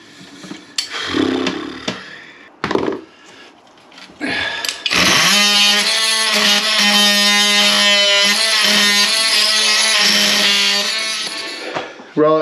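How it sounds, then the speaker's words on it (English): An oscillating multi-tool cuts through a toilet part, a loud, steady high-pitched buzzing grind that runs for about seven seconds, preceded by short bursts of tool noise and handling clatter. "getting the multi-tool through that is not working"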